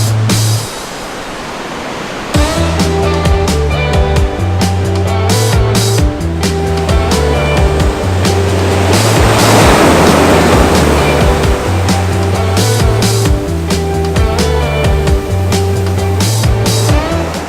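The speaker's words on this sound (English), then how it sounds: "The power, the force, the noise of the water behind me, it is so fantastic." Sea waves break and surge along the Devon coast in a loud, continuous roar that swells toward the middle, overlaid by a steady musical backing with a repeating low bass pattern and no voices.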